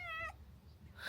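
A pet cat named Moochie gives one clear, close meow with a bright rising tone that breaks off after a moment, followed by quiet room hush and a faint second sound starting at the end.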